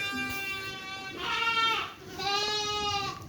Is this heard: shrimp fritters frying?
no